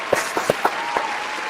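Audience applause at a church talk show, heard here as a handful of sharp, close handclaps in quick, uneven succession that fade within a second or so.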